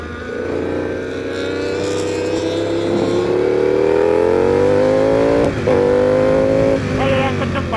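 A Ducati V4 R motorcycle on a Sunday morning group ride revs loudly and up close, its engine pitch climbing smoothly and sustained over several seconds, with brief blips and shifts near the end.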